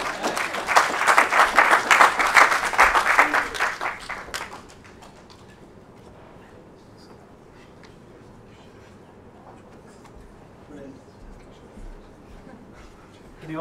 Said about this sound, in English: Can you get a round of applause, Anka?